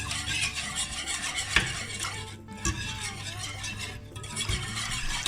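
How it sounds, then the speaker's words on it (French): Béchamel and caramel dessert stirred steadily in a pot over low heat, a continuous soft scraping swirl with a few sharp utensil clinks against the pan, close and alone. "Je continue à mélanger bien sûr, comme ça tombe pas"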